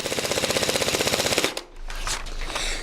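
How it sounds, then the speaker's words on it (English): An electric airsoft MP5 replica, powered by a battery and a motor, fires a rapid, even, close burst of BB pops over the motor's whir, then stops and leaves a softer whirring tail. "You can hear the motor whirring, and you can hear the BBs popping out of the front end too."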